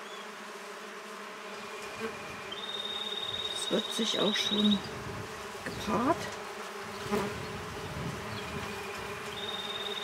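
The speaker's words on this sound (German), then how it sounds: "eine Geräuschkulisse wie vor einem Bienenstock" Wild bees swarming outdoors on a calm, sunny day, a dense buzzing like the front of a beehive, with individual bees droning close past the microphone while someone speaks quietly over the hum.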